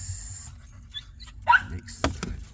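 Chihuahua and Yorkie mix dogs making brief whimpers, yips and soft vocal sounds close by, with a low background hum and short bursts of activity.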